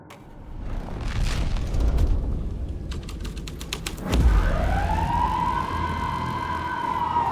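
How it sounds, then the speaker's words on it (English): A police car siren in the video game Alan Wake 2 rises into a loud, sustained wail after a heavy thud partway through, preceded by rapid clicking and a low background rumble. "Police car?"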